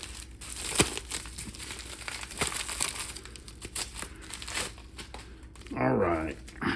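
Plastic and paper packaging from a shipment of trading cards crinkles and tears up close as it is opened and crumpled, with someone talking over much of it.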